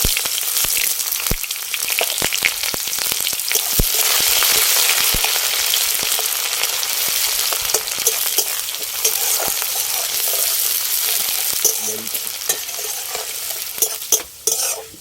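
Sliced onions, with whole dried red chillies and cumin, fry loudly in a pan, a dense close sizzle punctuated by repeated scrapes and clicks of a spatula stirring, with no talk.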